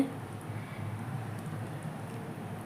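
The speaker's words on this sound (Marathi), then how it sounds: "हे पहा छान उकळते" Spicy mutton curry (rassa) bubbles in a pot, a soft, continuous, quiet simmer of small pops with no talking.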